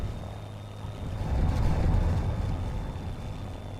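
An airplane rolls out on a runway after a bouncy landing in a flight simulator game, its engine rumble swelling midway and then easing off, continuous and fairly loud with no talk.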